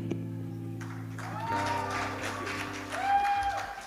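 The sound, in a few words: audience applause at a comedy show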